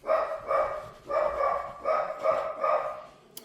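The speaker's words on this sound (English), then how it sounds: "Apologies for this interruption with the dogs." Dogs barking outdoors in five repeated bursts roughly half a second apart, fairly loud and clear with no talk over them.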